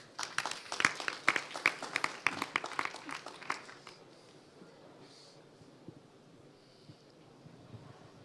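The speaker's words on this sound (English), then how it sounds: "Let's give her a round of applause." Audience applause at a wine conference in Paris, a burst of many hands clapping for about four seconds that then fades into quiet room noise.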